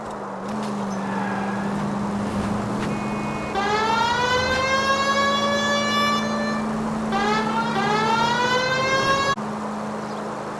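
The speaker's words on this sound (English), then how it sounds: "If you use the siren, maybe those metal things in front of you called cars would know you're in a hurry." A police car siren in the video game L.A. Noire wails in rising and falling sweeps, loud and close over a steady engine drone, with a brief pause between two bursts.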